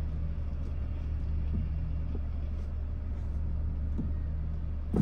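A Citroen car engine idling or running, a steady low rumble throughout, close and continuous with a slight bump at the end.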